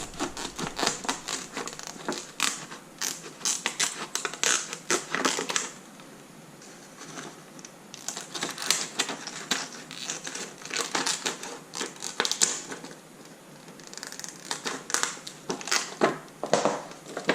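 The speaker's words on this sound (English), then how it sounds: "So again, just take your scissors there." Close, crinkly crackling and snipping of plastic sheeting being cut with scissors to make a slit lamp shield, coming in uneven bursts with brief pauses between them.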